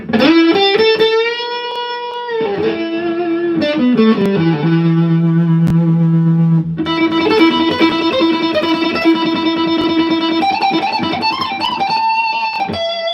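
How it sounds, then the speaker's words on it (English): Electric guitar through a gain pedal, drenched in heavy distortion, sustained chords and bending notes ringing loud and thick with a buzzy, saturated edge. "Check this out with this gain pedal."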